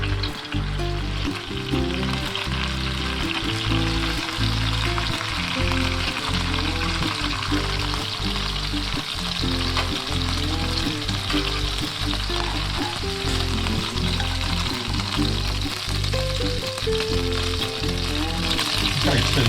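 Chicken breasts stuffed with sun-dried tomatoes, cream cheese and spinach fry in a pan with a steady, loud sizzle that runs unbroken from start to finish, with occasional light stirring or shifting sounds and no talking.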